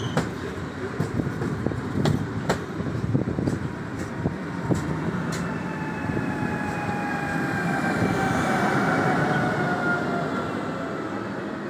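An EIP ED250 express train pulls away from Warszawa Wschodnia station, a steady rumbling roar with rhythmic clicks early on and a rising electric whine as it accelerates, loud and close.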